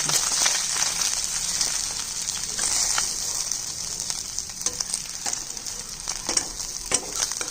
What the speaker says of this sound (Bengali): এইভাবে সমস্ত মাছগুলো ভেজে নিচ্ছি।